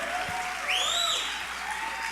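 Church congregation clapping steadily as a broad, even wash of applause, with a whistle rising and falling above it partway through.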